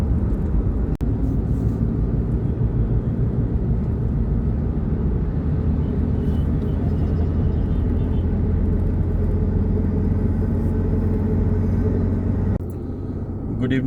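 A car cruises along an expressway with a steady, loud rumble of engine and road noise throughout, ending in a brief drop in level near the end.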